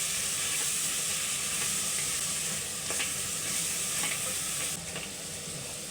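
Pieces of paneer with kasuri methi being stirred in a hot frying pan for a pulao: a steady, close sizzle and hiss of frying, with scraping from the stirring and no voices.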